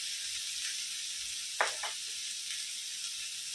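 Chili paste fries with ginger and garlic in a pan, giving a steady, faint, close sizzling hiss broken once by a brief scrape, with no talk.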